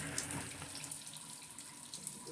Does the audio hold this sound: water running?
yes